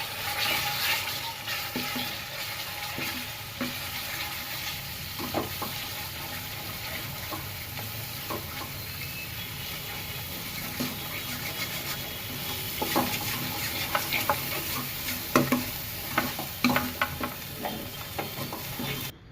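A soft, continuous sizzle of spice paste frying in a pan for a chickpea curry, with scraping stirring strokes and occasional clinks, no voices.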